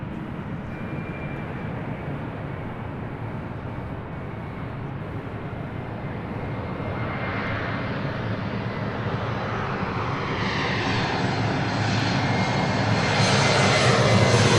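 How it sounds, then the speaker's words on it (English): A Delta Airlines Airbus A319 takes off at LAX, its engine roar building steadily from a broad rumble to a loud, rising whine and blast as the jet accelerates down the runway. "Now taking off, this is Delta Airlines 2412 taking off to Dallas Love Field on an A319."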